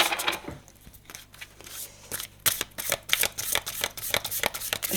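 Oracle cards shuffled and drawn by hand at close range, with soft riffles and quick snapping flicks coming in irregular bursts that build toward the end.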